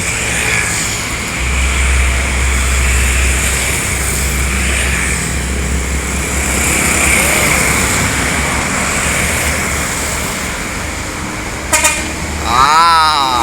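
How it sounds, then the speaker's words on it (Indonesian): A Putra Pelangi bus passes with a steady, loud engine drone and road rumble, and near the end a few short horn toots ring out over the traffic. "ini ada bus Putra Pelangi"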